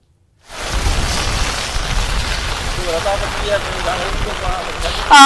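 Heavy monsoon rain pours steadily in Ahmedabad, a dense, close hiss of falling water that starts abruptly and runs on, with a faint voice and a brief louder burst at the end.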